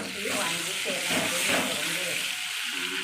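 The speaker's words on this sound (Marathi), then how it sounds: "आणि आता ती वांगी भरलेली वांगी त्याच्यामध्ये टाकायची आहे शिजण्यासाठी" Stuffed brinjals go into hot oil spiced with red chilli and turmeric, raising a loud, continuous sizzle and hiss up close with a few faint clinks beneath.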